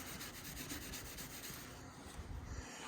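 A hand rubbing across a rough, clay-barred plastic car headlight lens gives a steady, close scratchy friction that runs continuously for about three seconds, with no talking.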